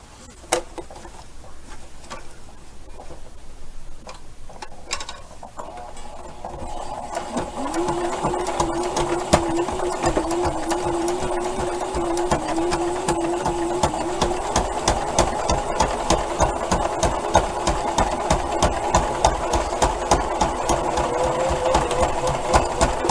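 A sewing machine stitches a fabric card wallet, starting with quiet handling and a few clicks, then running in a steady rapid mechanical patter at close range for the rest of the time.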